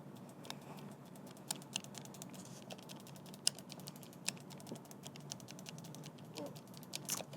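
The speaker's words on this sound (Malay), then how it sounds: "Ini saya tekan dia punya face button" The face buttons on a Thunderobot G45 Pro wireless gamepad are pressed over and over, giving faint, close, rapid clicks in an irregular rhythm over a low room hum.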